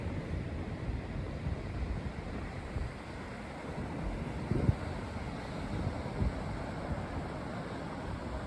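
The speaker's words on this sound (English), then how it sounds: "The wind started to pick up" Steady wind buffets the microphone on a beach beside the boardwalk, with constant broadband rushing and low rumble, probably mixed with distant surf, and a few brief gusty bumps.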